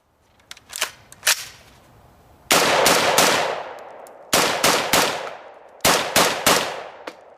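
An AR-15 A3 full-length rifle fires loud, sharp single shots in spaced groups, each crack followed by a brief ringing decay, with no voices.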